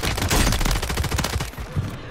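Rapid bursts of gunfire in a Call of Duty match, fairly loud for about a second and a half, then dropping to a quieter tail of scattered shots.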